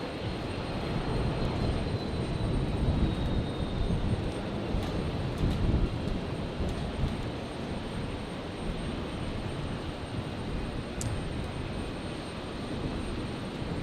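A Singapore Airlines heavy jet taxis out toward runway 01 right at Brisbane International Airport on a stormy night, its engines a steady, broad roar that holds near-constant loudness throughout.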